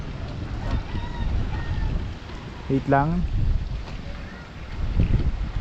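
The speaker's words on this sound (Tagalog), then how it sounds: "sobrang lakas ng hangin" Very strong wind gusting across open country, a loud, steady low rumble of buffeting against the microphone, with a short spoken phrase in the middle.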